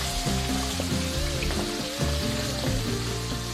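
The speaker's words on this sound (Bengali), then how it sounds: "তেলটা এখন গরম হয়ে গেছে আর এই মাছগুলো দিয়ে দিচ্ছি" Katla fish pieces frying in hot oil give a steady, dense sizzle that lasts the whole stretch, with tonal music playing underneath.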